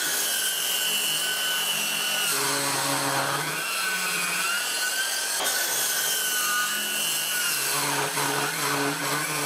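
An 18V cordless circular saw cuts wood, with its motor whining loudly and continuously. The pitch dips and rises as the blade bites into the board and then frees up, and no one speaks.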